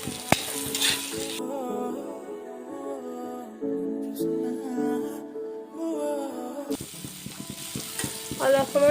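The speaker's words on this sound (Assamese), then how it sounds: "এতিয়া এয়া ভালদৰে ভাজিব লাগিব এইখিনি।" Pointed gourd and chickpeas stir-fried in a pan, with a steady sizzle and repeated scraping and clinking of a spatula against the pan, loud and close, with no talking.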